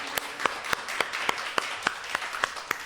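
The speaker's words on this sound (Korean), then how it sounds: "우리 하나님께 영광의 박수 돌리고 두 분을 축하합니다." A congregation at a church ordination service claps together in a steady, even rhythm, about three or four sharp claps a second, at moderate distance.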